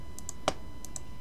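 A few quick computer keyboard keystrokes, light clicks spaced irregularly with one sharper press in the middle, close and quiet in an otherwise still room.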